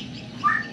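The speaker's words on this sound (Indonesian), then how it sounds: "Banyak burungnya?" A bird gives one brief, clear chirp in a residential Chinese-Indonesian neighbourhood near Pontianak airport, heard over a low, steady background.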